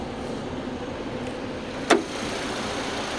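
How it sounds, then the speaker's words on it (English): A 2006 Audi A4 S-Line convertible with a 1.8-liter turbo engine idles with a steady, low, even hum, and one sharp click stands out partway through. "my phone does pick up the small engine noise, so the valve train noise"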